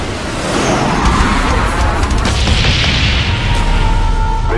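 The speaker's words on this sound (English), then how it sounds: "Bomb strike on the way." Bomb strike explosions in Call of Duty: Black Ops, a dense, loud rumbling barrage of booms and crashes held steady throughout, with no voices.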